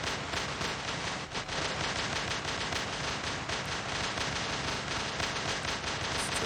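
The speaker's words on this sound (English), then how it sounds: "Start firing here." Rapid crackling bursts of robot weapons fire in the War Robots game on the Power Plant map, dense and continuous like a barrage of small explosions and gunfire, loud and steady throughout with no talk.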